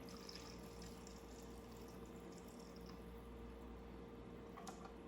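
Sliced red onion poured into red wine vinegar and water, with faint wet squishing and trickling liquid under a steady low kitchen hum, quiet and close, with no talking.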